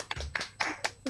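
A few people clapping briefly on a radio show, roughly five quick irregular claps close to the microphone, thin and sparse rather than full applause, no talking.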